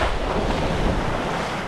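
Sea water washing at the shore where someone wades in to soak a wound, a continuous broadband rush of surf mixed with wind buffeting the microphone, steady and fairly loud with no talk.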